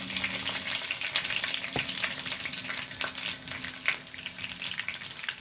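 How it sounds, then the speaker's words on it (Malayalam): Dried red chillies are added to hot oil with mustard seeds, tempering for an Onam pineapple pachadi. They sizzle and crackle steadily at close range, with occasional sharper pops and faint stirring. "ഇനി വറ്റൽമുളക് ഇട്ട് കൊടുക്കാം കേട്ടോ"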